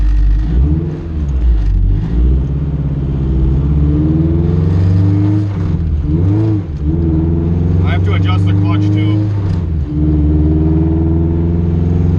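A Honda CRX with a swapped-in B series engine idles and revs, its harmonic engine note rising and falling through several throttle blips, loud and close with someone talking over it.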